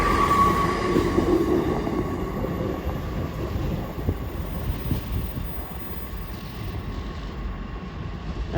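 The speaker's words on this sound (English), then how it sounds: "an Esperanto Express train going to Liverpool Lime Street is now slowly going past" A train bound for Liverpool Lime Street rolls slowly past at Edge Hill, a steady broad rumble of wheels and carriages that fades gradually, with a faint tonal whine early on.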